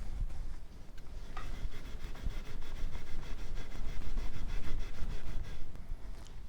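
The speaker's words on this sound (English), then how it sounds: "I did a little 320 sandpaper on the side of this neck" A Squier Stratocaster neck is rubbed along its side with 320-grit sandpaper, making close, rhythmic rasping strokes that continue steadily throughout.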